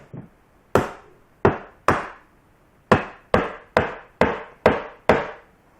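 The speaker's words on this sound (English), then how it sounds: "Just tapping. I'm going to do the top of the head again." Sharp tapping on the head of a composition doll to loosen its glued seam: nine crisp, hard knocks at uneven intervals, close and loud, each decaying quickly into near silence.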